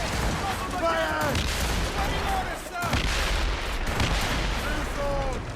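Naval cannons fire broadsides during a ship battle in Assassin's Creed Rogue, with repeated heavy booms and rumbling blasts spread through the clip, under shouted crew commands.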